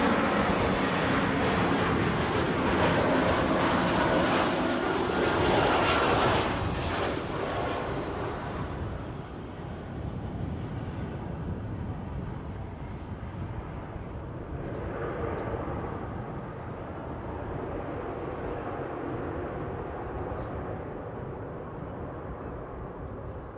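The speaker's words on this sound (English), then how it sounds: "We've got an easyJet coming in" An easyJet airliner comes in to land at Edinburgh airport, its engines roaring loud and broadband at first, then easing into a lower, steady rumble as it passes and recedes, with wind buffeting the microphone.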